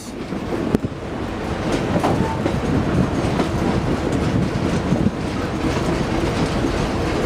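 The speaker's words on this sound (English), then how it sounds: "Train, train, going round the bend." A Verde Canyon tourist train rolls along the rails, rounding a bend, with a steady loud rumble and rhythmic clickety-clack of wheels close by, no voices.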